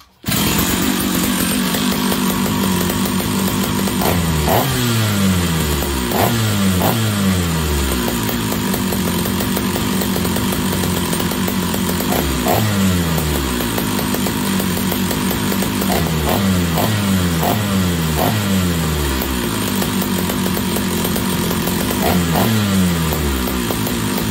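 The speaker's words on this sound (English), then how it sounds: "The saw tunes and idles nicely. It starts okay." A big red chainsaw with a broken single-spring clutch starts and runs steadily, its engine note rising and falling through several sharp revving bursts over a continuous loud idle.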